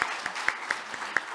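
A handful of scattered, separate claps from a small audience at a Korean presidential-election disability policy forum, evenly spaced and fairly faint, with no talking.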